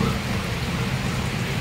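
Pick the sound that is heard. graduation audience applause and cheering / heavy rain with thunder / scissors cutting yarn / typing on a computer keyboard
heavy rain with thunder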